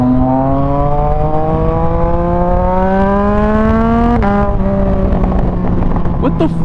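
Motorcycle engine riding along a road, loud and steady up close, its pitch climbing gradually through a long pull before a sudden shift at about four seconds, with wind rush over the whole clip.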